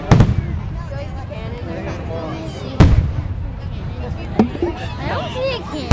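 Fourth of July fireworks in Rumson, New Jersey burst with three sharp, loud booms spaced a few seconds apart, followed by crackling, while a crowd chatters throughout.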